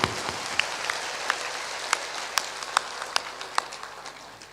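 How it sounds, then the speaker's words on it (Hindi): Audience members at a religious discourse clap hands overhead, a soft wash of many claps with a few louder distinct smacks spaced through it, heard from a distance in a large gathering. "तो ऊपर ऊपर ताली बजा दो"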